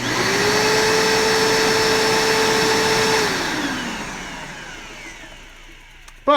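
An old Bissell 3522 upright vacuum cleaner from the early 2000s runs with a steady whining motor hum, then winds down as the pitch drops and fades, ending with a sharp click.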